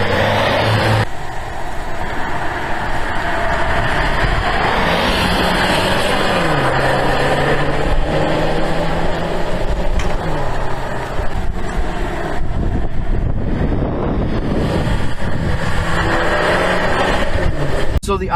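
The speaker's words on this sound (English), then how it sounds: "Yo, truck coming." A truck passes on the road, heard from inside a 2018 Infiniti QX30 S on the move, a loud steady rumble of road and engine noise with shifting tones as the truck goes by.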